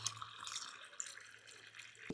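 Water trickles and drips onto greenhouse seedlings in pots, soft intermittent splashes close by with a low steady hum underneath, ending in a sharper thud.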